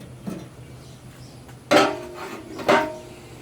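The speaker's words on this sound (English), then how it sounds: "I'm going to go ahead and put my grate on" A metal grill grate set down onto an Akorn kamado grill, two clear metallic clanks with ringing resonance about a second apart, preceded by a faint lighter clink, close by with no talk.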